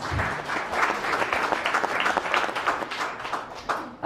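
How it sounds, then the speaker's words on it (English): A modest crowd at a campaign meet-and-greet in Council Bluffs, Iowa claps steadily, a sustained patter of applause at moderate volume lasting several seconds. "that deserves a round of applause"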